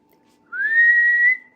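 A person whistles one sustained note, slightly rising at the start and then holding steady, loud and close, for nearly a second before stopping.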